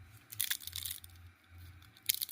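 Brittle crunching and cracking bursts of an old, brittle flexible hose being stepped on, close and fairly loud, in a few short clusters separated by quieter moments.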